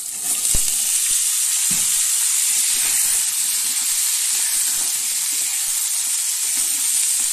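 Continuous bright hiss and sizzle of spices and potatoes frying in oil, close and even, with a few soft stirring knocks underneath.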